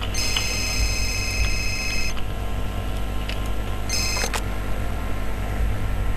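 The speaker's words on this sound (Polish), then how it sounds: "Odbierz telefon." A telephone rings in the video game Fahrenheit, two bright electronic trills a couple of seconds apart over a low, constant background hum.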